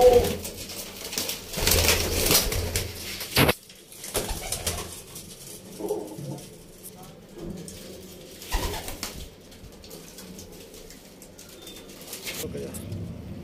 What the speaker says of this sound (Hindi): काफी तमाम अच्छी क्वालिटी में कबूतर है भैया